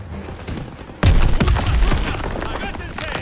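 Sudden, loud bursts of gunfire in the video game Call of Duty: WWII break out after a quieter stretch, rapid overlapping shots continuing with shouting voices mixed in.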